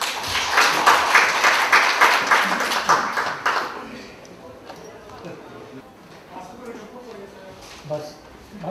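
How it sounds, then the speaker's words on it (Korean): An audience at a Korean unification policy seminar marking Liberation Day gives a loud burst of clapping to welcome a speaker, lasting about four seconds before fading, with talk continuing quietly afterward. "박수로 모시겠습니다"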